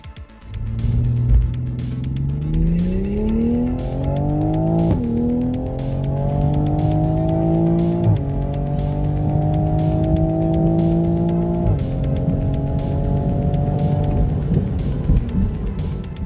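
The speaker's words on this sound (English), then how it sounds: "Launching from second gear and stalling up as much as we could on stock tires" A stock 2020 Toyota A90 Supra on stock tires launches from second gear down a drag strip, its engine rising in pitch through several gear changes with brief dips, loud and sustained before fading.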